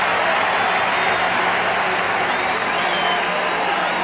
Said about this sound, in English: If they need more reason to make noise, a wave rolls around the Metrodome